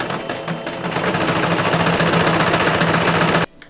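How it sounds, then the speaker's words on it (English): A sewing machine stitches French seams on a petticoat, a fast steady mechanical whir with rapid needle chatter running for about three seconds, close up and alone, then stopping abruptly. "I am making French seams on my petticoat"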